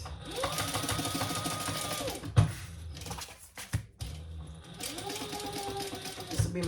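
Sewing machine stitching fabric for a crossbody bag, running in two steady bursts of rapid mechanical whirring separated by a short pause, close and clear.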